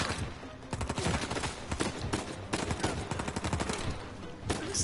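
Rapid bursts of enemy gunfire in the video game Uncharted 4, with loud overlapping shots and automatic volleys popping in dense clusters, separated by short gaps, throughout the firefight.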